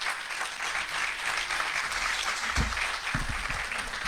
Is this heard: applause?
yes